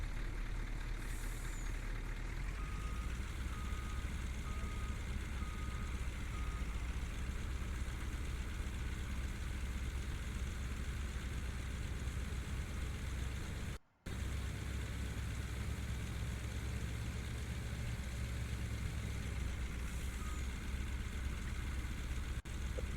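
A tractor engine in a farming game hums steadily at low idle, with a faint hiss and a brief dropout near the middle; quiet and continuous, no voices.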